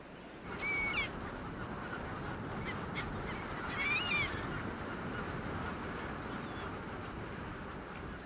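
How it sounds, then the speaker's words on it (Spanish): Franklin's gulls and other gulls call at a lagoon shore in Santuario Nacional Lagunas de Mejía, giving a few faint, distant squawks near the start and middle over a steady wash of surf and wind. "Algunas gaviotas de Franklin sobrevuelan la orilla, disfrutando simplemente el día, mientras otras descansan en alegre parloteo."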